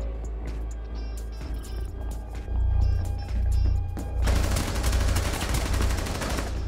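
Hostile gunfire in Rainbow Six Siege cracks out in loud, rapid bursts that thicken into a sustained barrage toward the end, layered over a low rumble.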